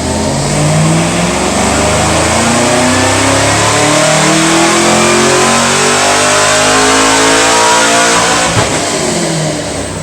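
Car with around 672 horsepower revving hard on a dyno with the hood open, a loud, close, continuous engine roar whose pitch climbs steadily through the pull.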